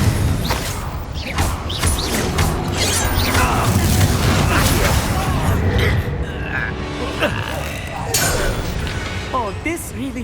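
Confringo spell explosions in Hogwarts Legacy, loud dense bursts, crashes and clanking impacts in continuous combat, with a voice speaking over the action.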